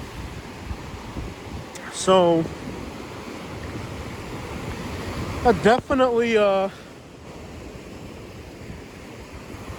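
Wind and surf on Miramar Beach in Destin, Florida, on a windy day after a cold front, forming a steady broadband roar throughout, with a person speaking briefly over it twice.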